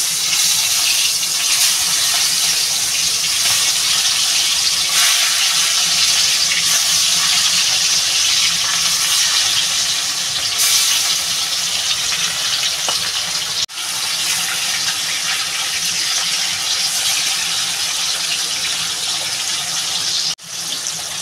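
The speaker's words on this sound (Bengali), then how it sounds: "তেলটা গরম হয়ে গেছে, মাছটা দিয়ে দেবো" Hilsa fish frying in hot oil, a loud, dense, continuous sizzling hiss that holds steady for a long stretch with only brief dips.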